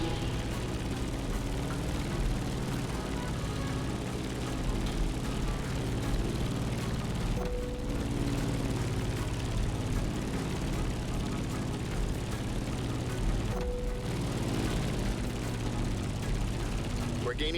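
Propeller airplane engine droning steadily in flight while climbing over Hawaiian mountains at sunset in The Crew Motorfest, a constant loud hum with short dips, heard under faint talk.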